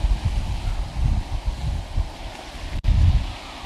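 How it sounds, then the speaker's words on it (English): Steady wind buffets the microphone on a beach on the Holderness Coast at Atwick, a rough continuous rush with gusty low rumble throughout and no voices. "Wind's gone quite strange."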